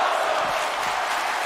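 Wrestling event crowd at an arena, a dense steady roar of many voices chanting together, loud and continuous throughout without a break.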